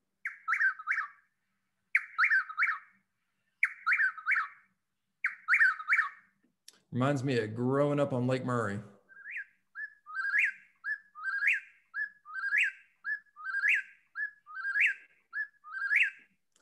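Repeated three-note whistled calls of a Chuck-will's-widow ring out loud and rhythmic, each phrase spaced about two seconds apart, broken once by a voice speaking.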